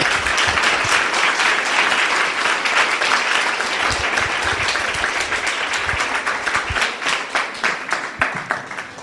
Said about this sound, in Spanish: Si le vas a aplaudir al Señor, dáselo, pero bien fuerte.